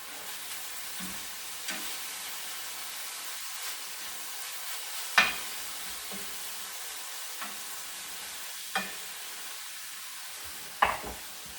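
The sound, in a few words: beef sizzling as it is turned in stir fry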